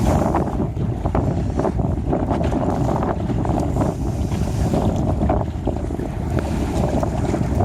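Steady, loud wind roars across the microphone while sailing a small sailboat, a continuous broadband rush with gusty swells and water sloshing beneath, with no one talking.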